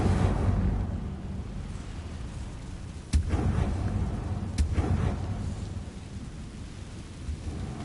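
Incendio fire spell cast in Hogwarts Legacy, a roaring, rumbling whoosh with two sharp cracking bursts partway through, over a heavy, continuous low rumble.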